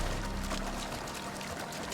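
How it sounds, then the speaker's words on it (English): Water wheel turning in a river inside a walled wooden cave base in the Icarus survival game, giving a steady rushing, splashing pour of water at close range. "Got us a water wheel here."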